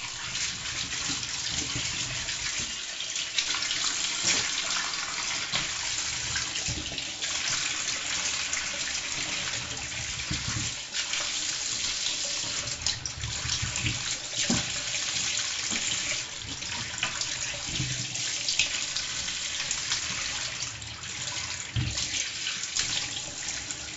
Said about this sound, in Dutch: Even aardappelen verwassen.